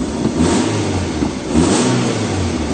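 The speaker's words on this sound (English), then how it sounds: "we'll give it a bit of a rev up" A BMW 318iS E36 coupe engine revs up loudly twice, rising and falling in quick succession, close by with no talking.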